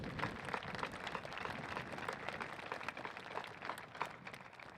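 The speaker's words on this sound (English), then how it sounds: "Round of applause for them." Steady applause from a crowd at a high school graduation ceremony, many hands clapping in a dense, continuous wash that carries on evenly throughout, heard from a distance and fairly faint.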